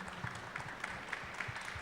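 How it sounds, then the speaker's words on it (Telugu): Audience clapping at a film success meet, a steady patter of many hands, fairly faint and distant, with no talk over it. "చప్పట్లు కొట్టాలిగా."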